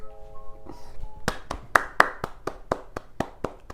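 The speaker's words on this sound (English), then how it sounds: "all I can do is clap" Hands clapping in a quick, even series of about a dozen sharp claps, close and crisp, starting after a brief stretch of faint background tones.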